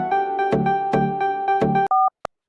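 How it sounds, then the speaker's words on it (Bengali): A phone signals an incoming call with a repeating electronic ringtone pulsing in regular bursts, close and fairly loud, ending in a couple of short beeps. "স্যার ফোন এসছে।"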